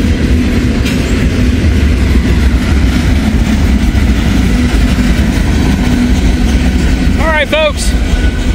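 Union Pacific and BNSF freight locomotives with their train rolling past, a loud continuous rumble with rail clatter and engine drone throughout, a horn-like tonal burst near the end, and someone speaking briefly over it.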